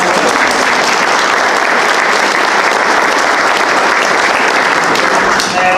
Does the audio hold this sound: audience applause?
yes